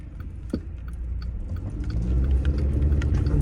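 Steady low road rumble from inside a car moving through heavy highway traffic in Canada, growing slightly louder, with tyre and engine noise and no talking.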